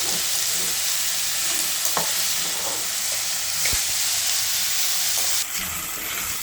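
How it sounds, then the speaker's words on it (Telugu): Salted onions frying in a pan for an egg dish make a continuous close sizzle and hiss, broken by a couple of brief stirring knocks near the middle and a slight drop in level toward the end. "ఆనియన్స్ ఫాస్ట్గా సాఫ్ట్ అయిపోతాయి, ఫ్రై అయిపోతాయి అన్నమాట"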